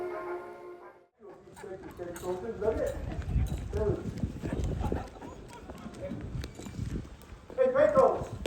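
Horses walk along a street in an old Wild West town, hooves clip-clopping in an uneven, close rhythm, with people talking over the hoofbeats.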